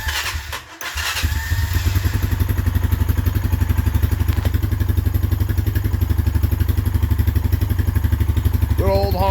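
A Honda Foreman 450 ATV fresh from a top end rebuild cranks and fires, then settles into a loud, steady rhythmic idle with a fast even putter close by; a voice speaks briefly near the end.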